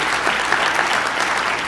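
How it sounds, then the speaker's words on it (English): Sustained round of applause from an audience at a political campaign fundraiser, steady dense clapping throughout with no speech over it. "Can we have a round of applause for Tony Silber?"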